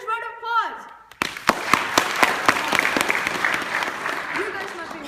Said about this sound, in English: give this amazing man a huge round of applause